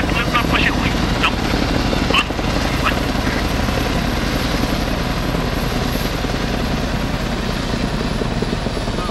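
Helicopter flying in the military video game Arma 3, a steady rotor and engine drone filling the whole stretch, with players talking over it throughout.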